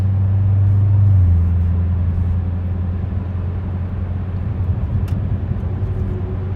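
A car's exhaust drones in a deep, steady low rumble as it accelerates, swelling at first and then holding constant with no voices present. The car runs big 335 tyres and has a high-torque, high-horsepower engine.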